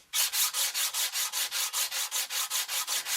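200 grit sandpaper is rubbed back and forth over a matrix in quick, even strokes, about fourteen rhythmic rasping swipes in a row, loud and close, with no speech.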